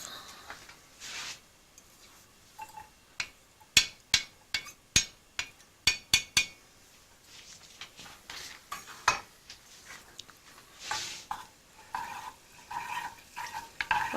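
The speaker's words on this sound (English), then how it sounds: "brown the garlic" Garlic fries in a pan as a wooden spoon stirs it, giving a soft sizzle under a run of sharp clacks and scrapes against the pan, close and without talk.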